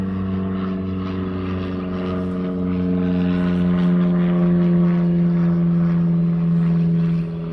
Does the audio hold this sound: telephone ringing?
no